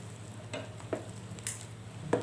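Stirring vegetable stew with coconut milk, tofu and tempeh in a cooking pot over soft sizzling, with a few quiet scraping strokes of a utensil spaced about half a second apart.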